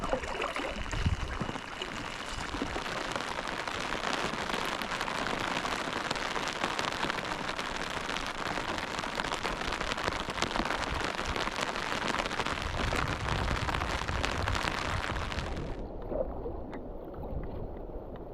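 Rain falls steadily on a sub-arctic river in Canada's Labrador wilderness, a dense even hiss of drops on water and a boat close by, continuing for about sixteen seconds before suddenly dropping to a quieter patter.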